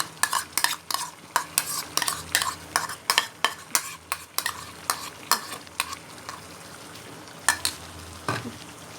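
Tomato paste made from four large tomatoes, fried into karahi masala in a wok: repeated sharp scraping and clinking stirring strokes of a spoon against the pan over a soft sizzle, close and clear with no voices.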